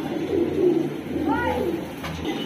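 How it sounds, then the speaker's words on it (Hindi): Pigeons in a loft give soft, low coos that roll on steadily, with a brief higher call partway through, close and at moderate level against a dense flock murmur. "ये देखो भाई कबूतर।"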